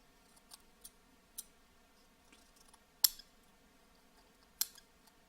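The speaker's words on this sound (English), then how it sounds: "so I just cut it with the scissors" Scissors cut cereal-box cardboard in a few quiet, separate snips spread out over several seconds, heard close with no talking.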